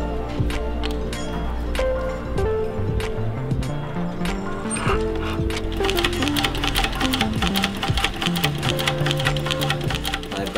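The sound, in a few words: sewing machine restitching a Chanel leather bag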